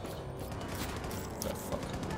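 Automated turrets firing at the player in Wolfenstein II: The New Colossus, a faint, muffled rattle of steady gunfire with mechanical clanks under a dense game soundscape, no sharp distinct shots standing out.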